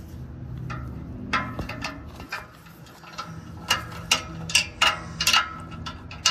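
Socket ratchet clicking as it turns a 17 mm exhaust manifold bolt on a 2006-2012 Mitsubishi Eclipse 2.4L, heard as a run of sharp, close clicks that grow more frequent toward the end over a low garage rumble.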